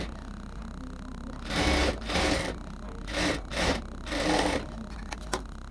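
A sewing machine stitches a sari into a dress in several short bursts of rapid whirring, separated by brief pauses, close up against a quiet room hum.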